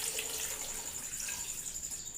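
Water pours steadily from a jug over ice pieces in a container for an aroo sharbat (peach drink), a continuous close splashing trickle with no talk.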